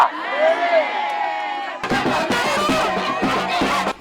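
A crowd cheers and shouts at a political rally in the DR Congo, a loud, dense roar of voices with rhythmic chanting and clapping in the second half after a sustained voice at the start.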